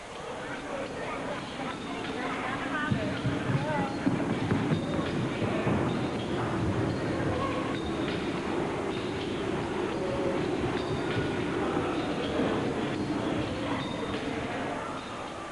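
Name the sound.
locomotive train running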